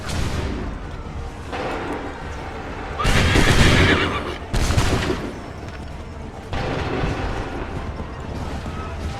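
Volleys of musket gunfire in the Assassin's Creed 3 video game, loud bursts of shots and booms rising over a steady battle din, with a couple of heavier blasts midway.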